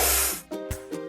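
Spray painting in a children's truck-building video game, a loud burst of hissing spray followed by a few short game sound effects and tones.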